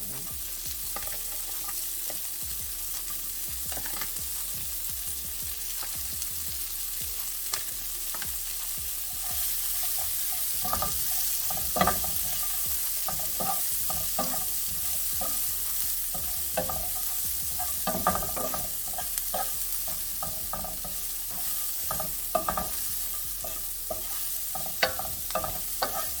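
Sliced sweet onion sautéing in a pan with only a little oil gives a soft, continuous sizzle, broken by repeated scraping and clicking stirring strokes throughout, close up and without talk.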